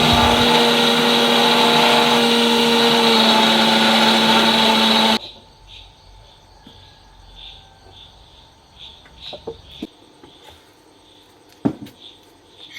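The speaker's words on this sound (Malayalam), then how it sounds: "അപ്പം നമ്മുടെ മിക്സിയിലിട്ടിട്ടൊന്ന് കറക്കി കൊണ്ടിട്ടേ" Rice is ground in an electric mixer grinder, a loud steady whirring motor drone that runs for about five seconds and then cuts off, leaving quiet room noise with a few soft clicks and knocks.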